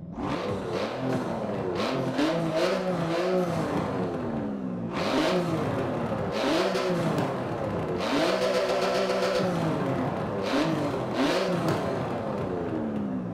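Porsche 911 GT2 RS in Forza, its 3.8 litre twin turbo flat six revving hard through repeated climbs and shifts, a loud raspy crackling engine note that rises and falls without pause.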